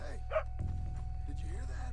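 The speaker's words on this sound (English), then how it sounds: "I'm gonna feed this puppy." A puppy in Red Dead Redemption 2 whimpers and yips in short high cries over a low steady game hum, with a voice speaking partway through.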